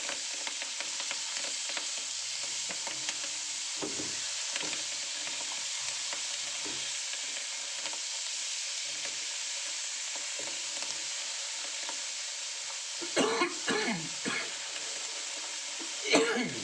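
Vegetables sizzle steadily in a hot pan for a Tuscan salmon dish, with soft stirring scrapes throughout and a person coughing near the end.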